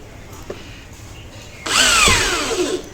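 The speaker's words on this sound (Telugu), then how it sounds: "ఈ స్క్రూ అనేది రేక్కును మనకు కింద పైప్కు ఇలా ఫిట్టింగ్ అయితే కావాలి" A power drill drives a screw through a UPVC roofing sheet into a pipe below, a short burst of rising, whining motor whir after a quiet pause, close and loud.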